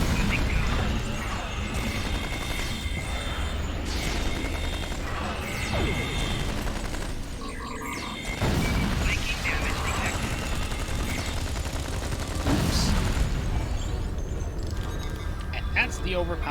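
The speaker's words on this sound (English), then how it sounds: "That's the overpoweredness of a Thompson submachine gun" Thompson submachine gun fire in the sci-fi game Star Trek Online, with dense bursts of rapid shots layered over busy combat effects and impacts throughout, loud and continuous.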